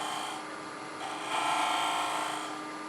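A skew chisel cuts a recess into a pepper mill spinning on a woodturning lathe. The quiet, close scraping hiss swells in the middle and then eases back.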